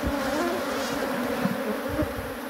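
Bees buzz steadily around a hive box, a dense close swarm hum that holds level throughout with no voices.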